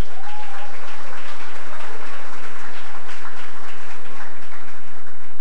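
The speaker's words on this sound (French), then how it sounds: "notamment Baina Bello, que je vous demande d'applaudir, s'il vous plaît." Audience applause at a talk on Haitian youth and economic and political sovereignty, a dense, steady wash of clapping that fills the room for several seconds with no voices over it.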